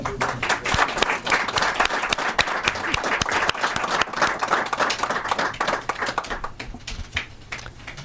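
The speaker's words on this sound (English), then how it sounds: "Let's give him a round of applause" A meeting audience claps in a dense, sustained round of applause that stays loud for several seconds, then thins slightly toward the end.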